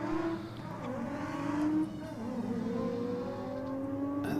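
A BMW E30 and a Honda Civic with a B16 VTEC twin-cam engine drag race down the strip, engines revving and climbing in pitch as they accelerate, heard from a moderate distance with no talk.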